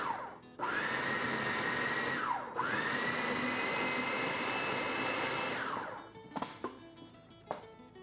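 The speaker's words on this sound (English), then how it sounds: "And then I'm just going to give this a few pulses just to mix it up." A food processor pulses chicken with sausage spices, two long loud motor runs with rising and falling whine at start and stop, close up, followed by a few clattering knocks.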